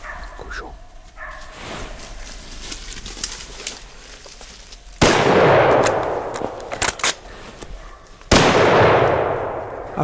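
Two loud, sharp gunshots a few seconds apart during a wild boar hunt, each echoing and decaying outdoors, with hunting dogs barking in the background.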